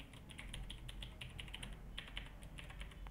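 Someone types a password on a computer keyboard: a quick, irregular run of close, quiet keystrokes with no voices.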